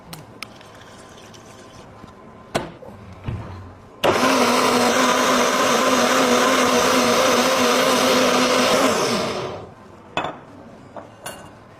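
A kitchen blender runs for about five seconds on chopped carrot, beetroot, ginger and water, a loud steady whirring roar, framed before and after by clinks of dishes and utensils.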